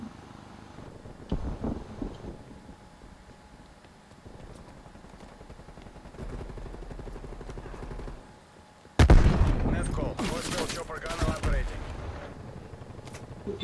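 A sentry gun in the Call of Duty Black Ops Cold War video game opens up in loud, rapid bursts of gunfire, mixed with game noise and a person talking.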